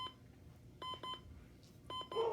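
An Emerson CKS1708 SmartSet digital alarm clock beeps in short bursts: a pair of quick electronic beeps, a pause, then more beeps, fairly quiet and close.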